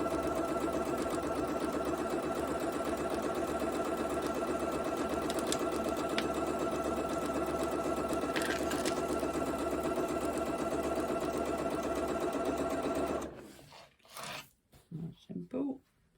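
A sewing machine runs steadily as jelly roll quilt pieces are chain stitched, a continuous close mechanical whir lasting most of the stretch before stopping, followed by a few brief handling sounds.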